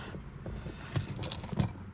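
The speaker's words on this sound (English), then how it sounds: "as I drop my keys" Car keys jangle and clatter as they are dropped at home, a couple of brighter metallic jingles standing out over low background rumble.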